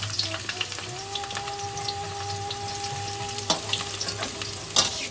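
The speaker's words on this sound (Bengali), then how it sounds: "ওই তেলেতেই আমরা বেগুনটাকে ভেজে নেব।" Eggplant pieces fry in hot oil left over from frying bitter gourd, giving a close, steady sizzle with scattered pops and spatula taps. A thin, faint steady tone hums underneath for a few seconds.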